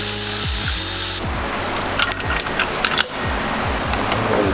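Bracket bolts being unbolted on a 2017 Subaru WRX STI during intake manifold removal, with a power tool whirring in repeated bursts, close and loud, broken by short metallic clicks and tool clatter.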